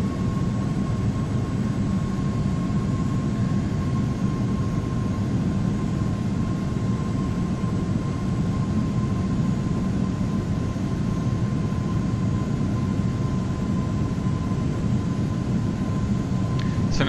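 An airliner in a flight simulator game roars steadily on an ILS approach to land under autopilot, a constant broadband engine drone with a faint tone, no talk.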